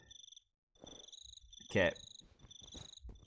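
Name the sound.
cricket chirping in the video game Minecraft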